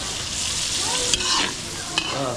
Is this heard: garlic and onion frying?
yes